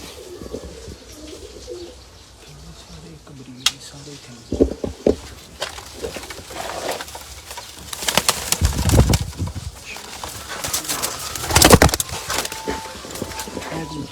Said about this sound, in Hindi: ये जी चंद कबूतर हैं जी सेठ वाले।